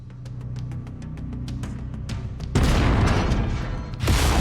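Weapon fire against an enemy mech in MechWarrior 5: Mercenaries, starting with a series of light, evenly spaced shots over a low hum, then breaking into heavy booming impacts and a loud blast near the end.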